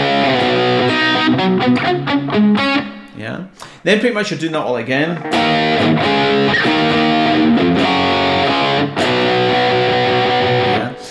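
Heavily distorted electric guitar plays a riff, loud, with chugging palm-muted notes and sustained power chords filling the whole stretch, and a voice speaks briefly over it.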